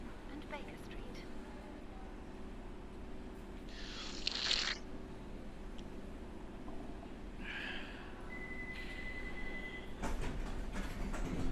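London Underground Circle Line train in the World of Subways game, running with a steady low rumble, a few brief hiss and chime bursts and a sustained tone, under a spoken announcement and talk.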